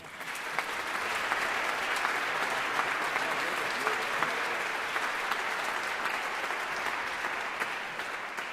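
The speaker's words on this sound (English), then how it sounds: "Please give them a big hand." Sustained applause from a concert audience for an opera orchestra after a performance, steady and full-bodied throughout with occasional sharper individual claps standing out.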